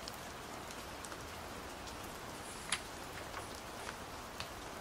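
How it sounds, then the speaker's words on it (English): Steady rain falling on grass, an even soft hiss with occasional faint drop ticks, quiet and alone with no voices. "Rain on the green grass."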